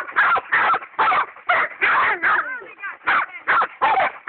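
A dog barks in a rapid, regular series of about ten loud, close barks, roughly two per second. A short whining, yelping stretch falls in the middle.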